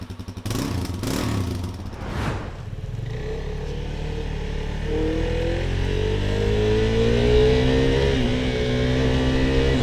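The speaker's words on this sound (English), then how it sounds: "we are going to ride a 390 adventure" A KTM 390 Adventure motorcycle being ridden, with a few sharp clattering bursts at the start and then a steady engine drone that rises gradually in pitch as the bike accelerates.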